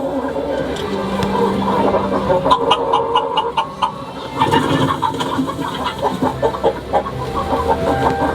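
Chickens cluck and murmur close by in a coop, several birds overlapping in short, irregular bursts with occasional higher squawks.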